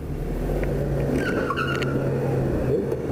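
A car speeds past with a steady engine roar and a sharp, tonal tire squeal as it skids, close and loud throughout.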